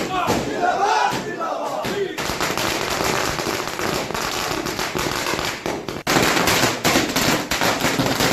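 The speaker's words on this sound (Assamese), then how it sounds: "দীপাৱলী উদযাপন কৰিছে ফটকা বাজি ফুটাই আদৰণি জনাইছে" Dense, rapid firecracker bursts crackle continuously, loud and close, at a political party celebration in Assam, with crowd noise mixed in and a brief lull before the popping resumes.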